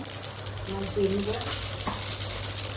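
Spice dropped into hot oil for a gravy base: a soft crackling sizzle that brightens midway, with a quiet voice murmuring faintly in the background and a steady low hum underneath.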